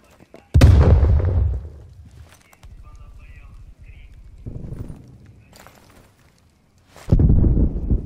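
Grenade detonation in Call of Duty Black Ops Cold War: a loud, sharp burst near the start fades into a rumbling tail, with quieter game noise and voice lines in between, then a second heavy blast near the end.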